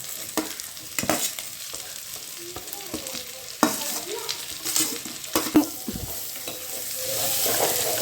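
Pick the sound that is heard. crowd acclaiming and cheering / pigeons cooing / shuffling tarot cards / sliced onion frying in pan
sliced onion frying in pan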